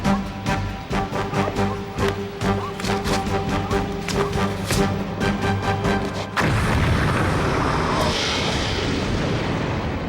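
An explosion in a TekWar film scene goes off amid dramatic action audio, starting with rhythmic booming hits before a sustained roaring blast and rumble takes over, loud and dense with no voices.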